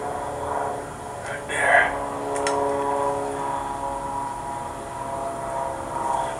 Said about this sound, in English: There's a plane coming overhead.